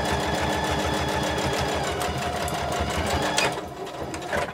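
A sewing machine stitches fabric close by with a fast, even mechanical chatter that runs steadily before easing off near the end.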